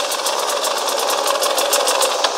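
A KTM EXC 300 motorcycle engine runs steadily as the clutch is let out, a close, loud, buzzing drone with quick regular pulses and no talking.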